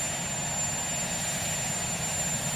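Helicopters flying in the distance make a steady, low rotor and engine rumble that runs unbroken underneath, with no voices present.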